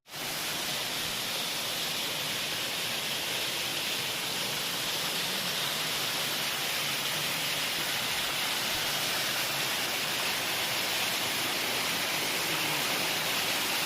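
Cheeku Dhara waterfall pours steadily nearby, a dense unbroken hiss and rush of falling water at constant loudness throughout, with no voices.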